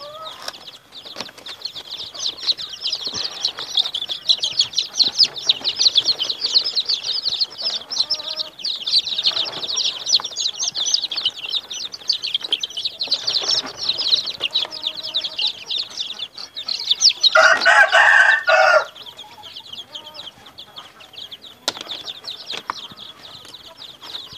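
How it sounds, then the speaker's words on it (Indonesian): Young chicks being moved into a box, with a dense chorus of high, shrill cheeping throughout and a burst of wing flapping and scuffling near the end. The sound is close and fairly loud, with no talk. "ini sobat anak-anak ayam saya yang akan saya pindahkan ke sini."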